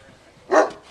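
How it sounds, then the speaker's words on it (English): A single short bark from a dog at a tiger sanctuary in Missouri, moderately close against a quiet outdoor background. "Don't do that when he's barking"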